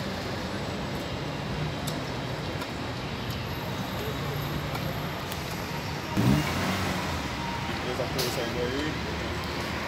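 A Santa Cruz bus pulls out of the bus station in São Bernardo do Campo. Its engine drones steadily under constant traffic rumble, with a brief louder surge partway through and a voice talking over it.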